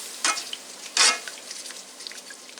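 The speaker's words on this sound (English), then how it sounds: "Put in about a cup and stir it up right away." Milk is stirred into a bubbling roux for cannelloni in a pan, two brief scraping swishes over a soft, quiet sizzle, with no voices.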